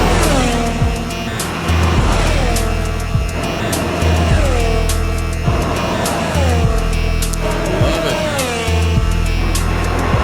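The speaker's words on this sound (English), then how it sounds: "There's some more cars." Formula 1 cars racing past during testing: a series of loud, close engine whines that sweep down in pitch as each car passes, coming in quick succession every couple of seconds with a constant roar between them.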